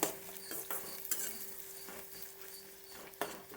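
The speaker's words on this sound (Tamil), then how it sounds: "கடுகு பொரிஞ்சிச்சு, கருவேப்பிலை, வெங்காயம் போட்டுக்கலாம்" Onions and curry leaves sautéing in a pan after mustard seeds have popped, for a fish curry with garlic and pepper; faint sizzling under repeated soft stirring scrapes and light clinks of a spoon against the pan.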